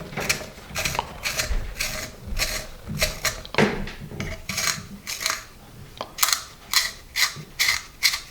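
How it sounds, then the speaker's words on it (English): A manual pencil sharpener cranks through a triangular learning pencil, giving a rapid series of gritty, clicking grinding strokes at close range with no one talking. "it's a tough, really not sharpening well in this manual sharpener here"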